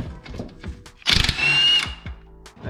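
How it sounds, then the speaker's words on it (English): A pneumatic impact gun removes a ball joint on a 1998 Subaru Impreza 2.5RS. It gives one loud, close burst of rattling hammering, with lighter tool clanks before and after. "While I have the gun set up, I'm gonna go ahead and try to get the ball joint also taken down."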